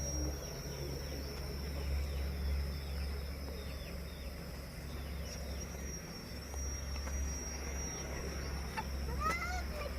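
Chickens and ducks on a rural farm, with scattered clucks and faint bird calls over a steady insect and cricket drone outdoors.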